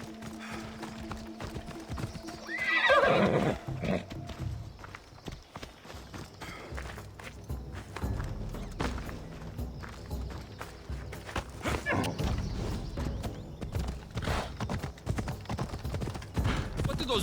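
A horse in the video game Assassin's Creed Odyssey gallops with rapid, continuous hoofbeats over ground, close and steady, under background game music.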